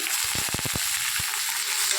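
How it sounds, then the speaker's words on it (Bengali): Vegetables and onions frying in a pan with fish head and pumpkin greens, a continuous close hiss of sizzling oil with a few dull knocks of stirring early on. "আনাজটাকে একটু ভালো করে ভেজে নেবে।"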